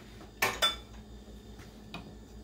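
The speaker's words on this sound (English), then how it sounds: "Let's stir that up." A spoon stirs a pot of greens for an Indian-inspired saag, giving two sharp metallic clinks close together, then quieter scrapes and a faint tap.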